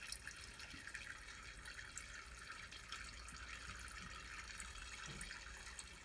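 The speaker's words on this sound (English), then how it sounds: "So all I'm doing right now is letting some of this juice drip back in." Grape juice dripping back into fermenting wine must, heard as a faint, continuous watery trickle with soft drips, quiet and even throughout, without speech.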